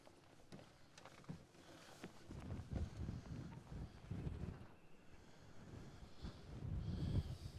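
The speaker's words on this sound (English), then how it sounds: "We're not going to spend much time up here because it's really windy." Strong wind buffets the open fly bridge of a Fairline Phantom 48 motor yacht, a low, gusting rumble against the microphone that rises and falls in uneven bursts, fairly quiet overall.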